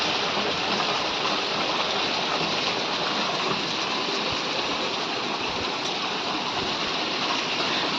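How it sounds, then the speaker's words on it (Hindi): Heavy rain pours steadily outside a room, a dense, constant hiss and rush of water with no break, filling the whole stretch evenly. "बहुत ज़्यादा बारिश हो रही है, बहुत ज़्यादा है, देख सकते हैं, हद से ज़्यादा बारिश है"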